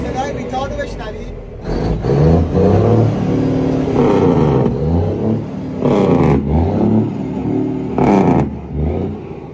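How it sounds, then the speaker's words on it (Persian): A Mack truck's retarder engine brake barks in repeated loud, close bursts of deep rumbling exhaust, rising and falling over several seconds, with the engine idling between pulses and no one speaking. "حالا صدای ریتارد رو بشنوید"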